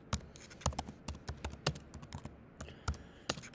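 Quick, irregular keystrokes clatter on a computer keyboard during a Google search, close and crisp, with bursts of taps and short pauses and no talking.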